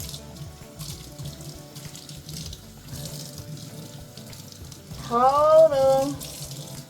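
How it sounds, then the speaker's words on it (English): Water running from a tap to rinse conditioner out of natural hair, a steady broadband wash throughout, with a person speaking briefly over it and humming near the end. "Now to rinse off the conditioner."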